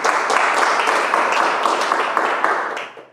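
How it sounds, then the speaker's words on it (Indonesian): Audience at an evening business presentation seminar clapping for themselves, a full, steady round of applause with distinct hand claps that holds loud before fading out at the end. "Tepuk tangan buat Anda semuanya."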